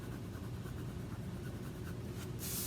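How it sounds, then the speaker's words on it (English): A colored pencil rubs over paper in small circular strokes, a soft continuous scratchy shading sound that holds steady, with a brief brighter scrape at the end and no voices. "I'm going back to circle coloring because that is what works best for me"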